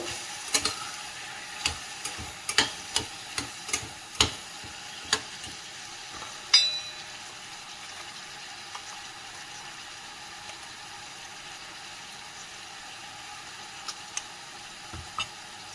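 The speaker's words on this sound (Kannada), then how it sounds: "ಸ್ವಲ್ಪ ಕೊತ್ತಂಬರಿ ಸೊಪ್ಪು ಹಾಕ್ಬಿಟ್ಟು ಚೆನ್ನಾಗಿ ಬಾಡಿಸ್ಬೇಕು" Coriander leaves frying in a pan for vangi bath, with a spoon clicking and scraping against the pan in a string of sharp taps, then a faint, steady sizzle with only occasional clicks.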